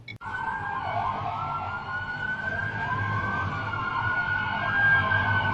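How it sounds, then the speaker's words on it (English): Police sirens wail steadily and loudly outside a sealed-off bank robbery scene, their rising and falling tones layered over a low traffic rumble, with no voices. "Police cars line the block, sirens wailing"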